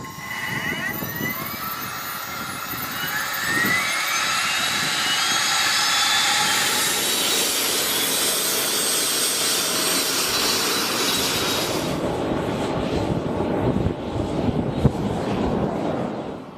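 A Subsonix JSX-2 light sport jet's engine spooling up, a loud rising turbine whine and roar that builds steadily and holds, then a sharp cutoff of the high hiss near the end while the low rumble continues.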